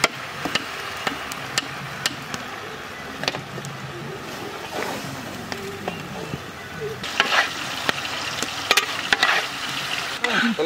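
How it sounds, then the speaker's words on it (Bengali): Fried shrimp stirred with potato and young jackfruit in a pan for a Bengali village dish, a steady close sizzle under repeated sharp spatula scrapes and clinks. "ভাজা চিংড়িটা দিয়ে একটু কষিয়ে নেব।"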